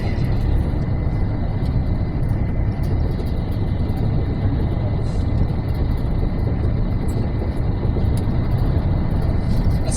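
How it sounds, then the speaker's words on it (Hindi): A vehicle coasts downhill at about 80 on the slope at Wadi e Jinn near Madinah, giving a steady, close drone of road and engine noise with wind rush that runs unbroken throughout. "गाड़ी 80 की स्पीड पे है।"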